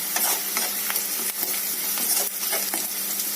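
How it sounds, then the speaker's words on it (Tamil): Garlic sizzles and crackles in a hot pan with golden fried onions, a steady close frying hiss with stirring scrapes mixed in, no voices. "அடுத்தது பூண்டை போட்டு வதக்கிடலாம்"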